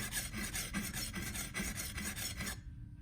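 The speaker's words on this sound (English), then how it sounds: "You want to put a little extra pressure right over the tip of the heel if that's where you're working, just so that pressure grinds that part of the knife more than the rest" Rhythmic rasping strokes of a knife blade being sharpened, grinding near the heel, about eight close, even back-and-forth passes that stop abruptly near the end.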